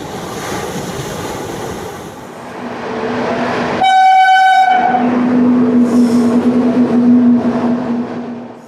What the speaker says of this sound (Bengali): এখন আমি দাঁড়িয়ে রয়েছি আমার রেলওয়ে শহর পাঁশকুড়া জংশনে